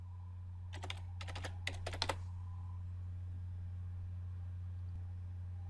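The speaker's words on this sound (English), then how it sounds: "I'm just going to type running." A computer keyboard is typed on in a few quick bursts of close, clicky keystrokes entering a short search word. A steady low hum follows, and no one speaks.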